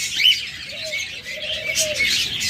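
A pair of pet budgerigars or cockatiels sold as a breeding pair gives short chirps and warbling calls close by, with a faint rustle beneath.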